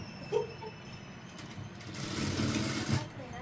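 A sewing machine stitches elastic uniform pant pieces together, a soft close whirr that builds in the second half, with a few faint handling noises and a voice briefly in the background.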